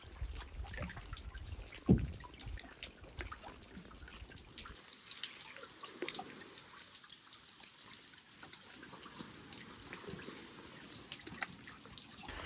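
Water trickles and drips steadily over rock at Rock Lake in Algonquin Provincial Park, close and fairly quiet, with a brief louder splash early on and no voices.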